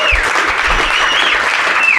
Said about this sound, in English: So if we could just kind of wrap this thing up with a big round of applause.